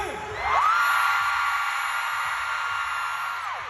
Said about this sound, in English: Everyone, before I go, scream!